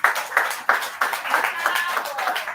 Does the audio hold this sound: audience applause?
yes